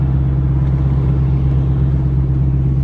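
A BMW E46 car on the road gives a steady, loud, low engine rumble that holds constant throughout, with no voices.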